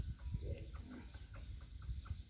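Chicken clucking at an outdoor spot where bamboo-tube sticky rice is roasted, with several short clucks scattered through a steady low rumble of background noise.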